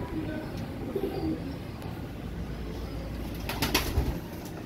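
Soft, low cooing of pigeons, fairly faint against a quiet background, with a brief rustle and flutter near the end.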